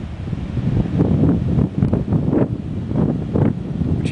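Water roars at a hydroelectric dam on Schwatka Lake in the Yukon, Canada: a loud, steady, low rushing surge with uneven swells, buffeted by wind on the microphone.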